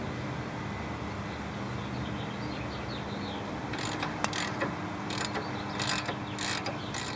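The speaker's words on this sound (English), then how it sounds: "We'll get the breaker bar on it and break it loose." A breaker bar and ratchet work loose a 15/16 castle nut on a car's ball joint, with a low garage background giving way to bursts of sharp ratchet clicks in the second half.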